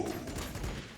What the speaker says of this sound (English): Let's try the heavy stubber to finish him off.